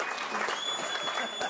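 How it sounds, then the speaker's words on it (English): An audience at a golf club talent show finale gives the bar staff a round of applause: a short, dense burst of clapping that holds steady throughout. "Round of applause for your bar staff."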